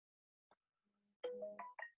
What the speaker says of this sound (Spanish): Voy a mutearme el teléfono. Me carga esto porque pareciera que me hablan cuando uno está haciendo clase.